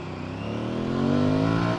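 An Aprilia Tuareg 660cc motorcycle engine idles and then revs up, its steady harmonic drone rising in pitch and loudness before easing slightly, close and without voices.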